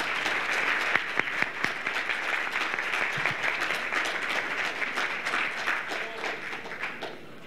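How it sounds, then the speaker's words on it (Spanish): An audience at a forum applauds for Javier Sicilia, steady clapping from a crowd with a few sharp nearby claps, fading slightly toward the end. "les pido un aplauso para Javier Sicilia."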